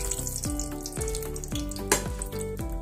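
Whole spices, black cardamom, cloves and bay leaves, sizzling in hot oil for an okra and mutton stew, a loud, steady crackling fry throughout with a tune playing in the background.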